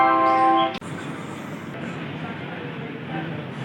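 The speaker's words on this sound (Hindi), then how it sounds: "तो हमारी ट्रेन निकल चुकी है प्लेटफॉर्म नंबर 3 से, मऊ जंक्शन से।" Express train 14055 from Mau to Anand Vihar pulls out of Mau Junction platform 3: a short horn blast, then a steady rolling rumble of the moving carriages.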